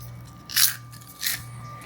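Crispy homemade caramel corn crunches in two sharp, close bites about half a second apart, with a faint steady hum behind and no talking.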